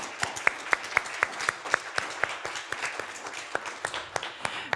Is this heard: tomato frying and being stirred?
no